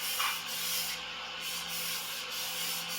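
An antique Dufrense and Co. chef knife is worked on a 1,000 grit whetstone, giving a steady, even rasping scrape that runs throughout with faint rhythmic strokes, close and fairly quiet, with no talking.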